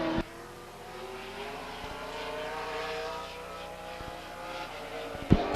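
A late model race car on a warm-up lap at Stockton 99 Speedway, running an underpowered spec motor, drones with a steady engine hum at moderate distance, holding an even pitch throughout with a brief clunk near the end.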